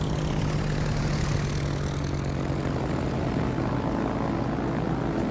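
Steady drone of propeller-driven carrier aircraft engines in World of Warships, from the British tier 6 carrier Ark Royal's planes, a continuous loud hum without pauses and no talking.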